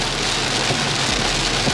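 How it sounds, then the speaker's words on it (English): Heavy South Florida rain pours down on the street, a dense, steady hiss of downpour on hard surfaces, loud and close with nothing else over it. "Man, it's pouring down, man. Look at it."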